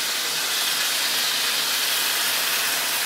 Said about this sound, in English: So we're just going to put just a little bit of white wine in here.